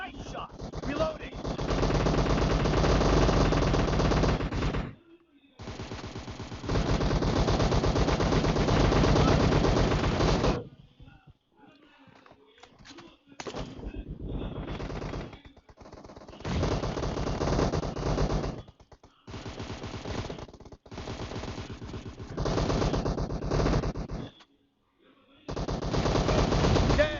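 Gunfire in the battle royale video game PUBG: loud, close automatic bursts lasting several seconds each, repeated with short gaps and a few scattered single shots between them.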